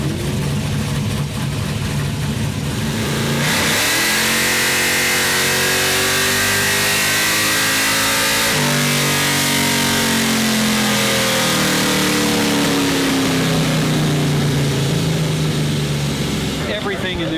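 A 455 Pontiac V8 with 12.5:1 compression, E85 fuel, CNC ported heads and forged internals revs hard at a drag racing event, rising and falling in long, loud sweeps close by, with voices partly buried under the engine.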